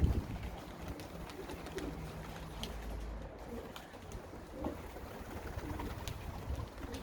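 Pigeons coo softly on the landing board outside the loft, low calls repeating through faint outdoor ambience, fairly distant and quiet.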